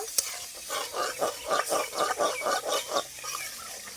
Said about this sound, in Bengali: নেড়ে চেড়ে টমেটোটা একটু কষিয়ে নেব